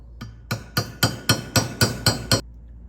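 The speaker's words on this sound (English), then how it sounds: "take me a 16 millimeter socket, slip it on there, and just lightly tap it on" A 16 mm socket lightly tapping a valve seal into place on an iron-block Chevrolet LS1 cylinder head: eight sharp, evenly spaced metallic taps ringing briefly, close-up with no talking.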